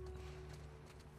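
Horse hooves clop softly in the video game The Last of Us Part II, a faint and brief patter under a steady low hum, with no talk.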